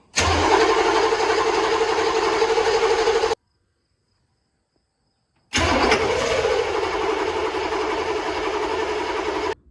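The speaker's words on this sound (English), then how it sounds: "I'm gonna have you guys up here to look at the exhaust while I crank this thing over" An M998 Humvee diesel engine cranks over loudly and close, two long bursts of starter churning separated by a couple seconds of silence.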